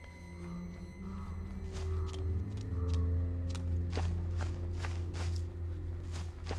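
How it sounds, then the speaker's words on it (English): Footsteps in the horror video game Outlast: Whistleblower, a string of soft, irregular thuds over a steady low ambient drone and faint tones, fairly close and unhurried. "Oh, I hear footsteps."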